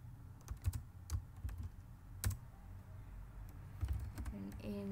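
Someone typing C++ code on a computer keyboard, an irregular run of crisp, close key clicks in short bursts with brief pauses and a low background hum.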